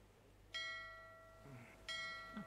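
A bell with bright, sustained harmonic partials strikes twice, about 1.4 seconds apart, ringing out near and fairly loud, with a faint murmur of voices between strokes. It is heard during a tabletop role-playing session at sea, signalling land.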